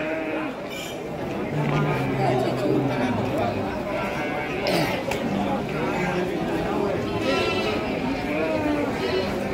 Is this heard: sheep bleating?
yes